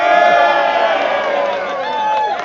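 A large crowd cheers and whoops loudly and continuously, a dense roar of many voices filling the space.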